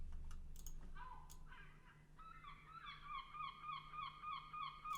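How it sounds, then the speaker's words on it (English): Gulls calling repeatedly in a rising, rhythmic series of harsh cries, moderately close, over steady low background hum with no talk. "Oh my days, the seagulls"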